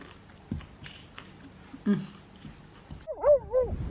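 A dog lets out a few short barks and then a whiny, yelping vocalization, close by, while a person speaks nearby.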